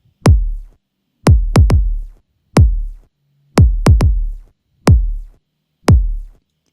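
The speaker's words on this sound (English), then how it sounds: "Future Bass 2, and it sounds like this, the kick drum." Punchy electronic kick drum hits thump in a sparse, syncopated pattern, each a deep booming thud with a sharp click at the start, heard alone.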